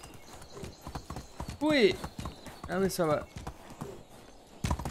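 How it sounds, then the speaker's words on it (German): Hooves of a galloping horse in Medieval Dynasty, a rapid rhythmic clopping throughout while someone talks and exclaims over it. "Schneller, Pferdchen, schneller."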